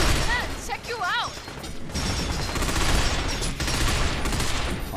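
Rapid gunfire bursts from the Binary Domain third-person shooter, dense and continuous across the clip, with brief voiced game sounds and clatter near the start.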